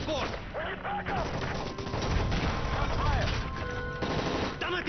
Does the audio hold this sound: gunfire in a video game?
yes